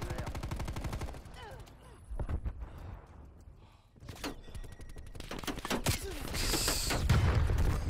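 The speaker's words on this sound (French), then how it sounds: "On tire dessus, je sais pas d'où en fait." Gunfire in the video game Black Ops Cold War on a foggy dune map rings out as repeated shots and rapid bursts, some sharp and close, others distant, continuing throughout amid game background noise.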